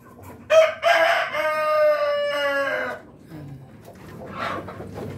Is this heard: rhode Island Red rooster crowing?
yes